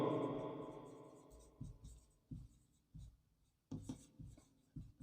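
Chalk or marker writing on a board during a physics lesson on electric field intensity comes as a series of short, separate strokes and taps. Speech fades out at the start.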